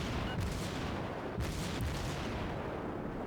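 Naval gunfire in World of Warships: a dense, loud, continuous rumble of cannon fire, with a few sharper booms standing out, and no voices.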